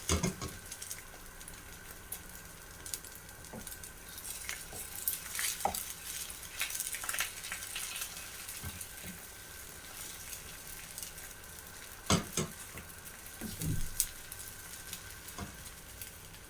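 Eggs fry in a pan over spread lup cheong sausage, a soft sizzle running underneath occasional clinks and scrapes of a utensil against the pan, close and fairly quiet with no talking.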